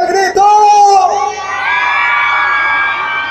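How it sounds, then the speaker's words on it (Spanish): A studio audience at a Mexican television show shouts and whoops loudly together, a dense crowd roar that swells at first and then holds as a sustained cheer. "Creo que grita más fuerte tu público de aquí en medio."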